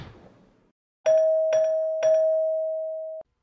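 A doorbell-style notification bell rings three quick, bright dings, the last tone ringing on before stopping abruptly, loud and clear with nothing else beneath it.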